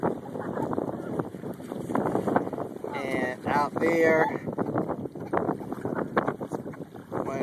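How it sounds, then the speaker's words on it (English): Gusty wind buffets the microphone beside a lake in Columbia, South Carolina, on a blustery day in the wake of Hurricane Irene, a steady low roar running under someone talking. "it's a windy day"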